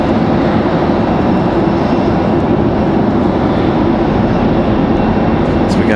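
An airplane at Raleigh-Durham International Airport gives a steady, loud, broad engine roar that stays constant for the whole stretch.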